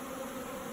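Honey bees buzz steadily at an opened hive during a February hive check, a dense, continuous drone close by with no pauses.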